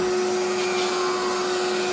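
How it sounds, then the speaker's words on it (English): An Electrolux 2100 vacuum cleaner runs with its power nozzle attached, a loud, steady motor whine with a constant high tone and airy rush, heard close and alone. "Now this power nozzle seems to be in good shape and seems to sound good."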